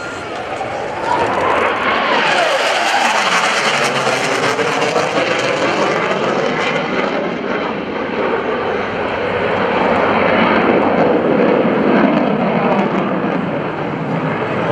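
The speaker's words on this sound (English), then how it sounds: "From the right, the Gladiators A-18C model Legacy Hornet, been around since about" An F/A-18C Legacy Hornet jet flies a demonstration at the 2015 NAS Oceana airshow, its loud jet roar sweeping and shifting in pitch as it passes, then holding a sustained rumbling whine.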